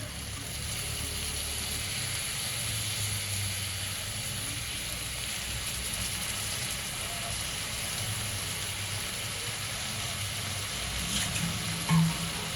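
Dried prawns (sode) are washed in water, giving a steady, close rush of running water with faint clinks throughout and a small knock near the end.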